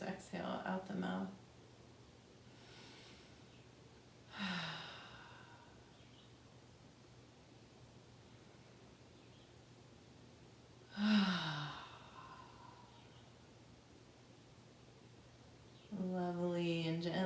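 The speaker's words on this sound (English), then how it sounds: "Deep inhale through the nose, exhale out the mouth." Slow deep breaths in a quiet summer yoga relaxation session, drawn in through the nose and let out through the mouth. Three or four soft, breathy exhales are spaced several seconds apart, close and gentle over low background hiss.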